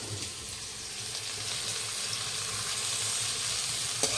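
Chicken is sautéed in a pan with cumin, onion, tomato, green chilli and curry leaves for biryani, giving a steady, moderate sizzle that builds slightly, with a brief sharp click near the end and no speech.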